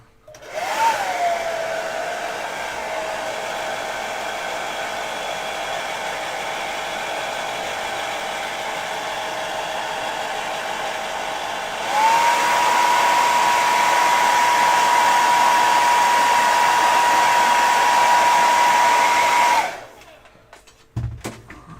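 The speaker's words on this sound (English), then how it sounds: "get the hairdryer on it." A handheld hair dryer runs with a steady whining hum, then jumps to a higher, louder setting about halfway through before switching off abruptly near the end.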